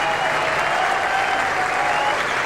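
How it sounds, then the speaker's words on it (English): Cricket crowd at the Gabba in Brisbane applauding a batsman out for 181 against New South Wales, dense continuous clapping from a large stadium audience, loud and sustained throughout. "So almost universal applause."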